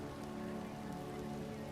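Steady rain falling on pavement in a city at night, an even hiss of drops on the surface that continues at low, constant level without pause or voices.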